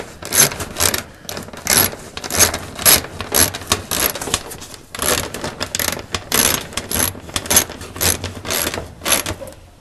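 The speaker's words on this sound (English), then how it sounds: "you take your ratchet and finish the job there" A ratchet tightens a screw on a GE washer during repair, giving repeated bursts of close, loud clicking and grinding that come in quick rhythmic strokes with short pauses between them.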